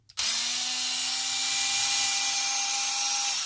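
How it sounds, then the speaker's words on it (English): A power screwdriver backs screws out of a Redcat Kaiju RC car, giving a close, steady high motor whine that holds for about three seconds before cutting off. "so let's take these screws out of here."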